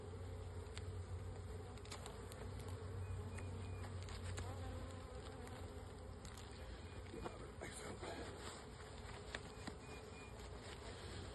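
Honey bees buzz in a dense, continuous hum while a package is installed outdoors, with individual bees flying close past and small ticks and taps scattered through the drone.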